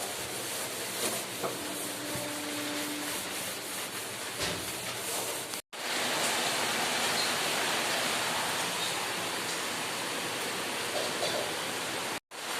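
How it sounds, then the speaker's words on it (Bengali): Heavy rain pours down steadily outside a home, a dense, loud, continuous hiss with a brief cut partway through. "জোরে বৃষ্টি এসে গেছে।"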